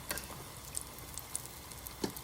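Soft, steady sizzling of tortilla samosas frying in oil, with scattered small pops and crackles throughout; fairly quiet and close, no voices.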